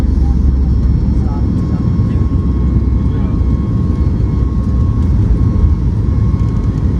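A Southwest Boeing 737 MAX 8 takes off with its engines giving a loud, continuous broadband roar that holds evenly for the whole stretch.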